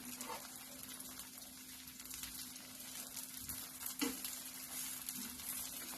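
An upvas (fasting) dosa sizzles gently on a hot pan, a soft, continuous frying crackle with a low electrical hum beneath and a couple of light clicks.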